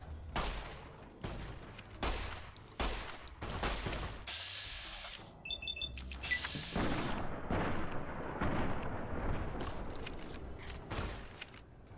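Gunfire in the video game Fallout New Vegas, with sharp shots cracking in bursts and volleys at irregular intervals over twelve seconds, mixed with clicking and metallic mechanism sounds, moderately loud, and no speech.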